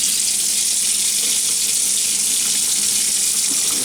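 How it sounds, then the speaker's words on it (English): A part from a Delmonico FMS-749 AM-FM tabletop radio receiver is rinsed under a running tap, giving a steady, close hiss of flowing water that does not let up. "let's give it a rinse."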